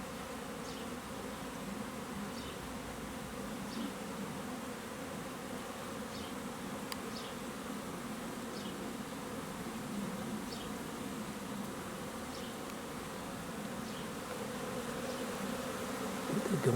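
Honeybees buzzing steadily around their hive on a spring day in Massachusetts, a dense, even drone of many wings with no voices, holding at a constant level throughout.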